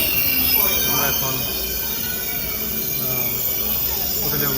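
A KTX bullet train pulls into a platform in South Korea, loud and close, with sustained high metallic wheel squeal and rolling rumble, a faint voice underneath.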